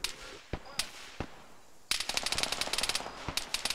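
Machine gun fire in the ArmA 3 video game: a few separate sharp shots, then a rapid sustained burst of automatic fire, crisp and moderately distant.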